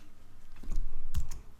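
Keys on a computer keyboard are pressed during text layout work, with a few close, soft clicks and a heavier tap of a large key in a quiet room.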